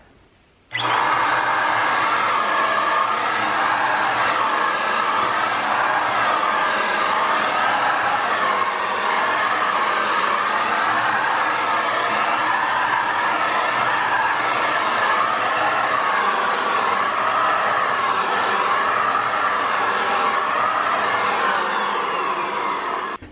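A Tacklife paint spray gun starts abruptly and sprays in a loud, steady, close whoosh that runs unbroken for over twenty seconds before easing off at the end.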